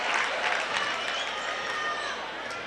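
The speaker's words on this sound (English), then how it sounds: "as they chant air ball" Crowd at a 2012 OSAA 1A boys basketball championship game chants and roars steadily, a dense, loud wash of many voices filling the gym throughout.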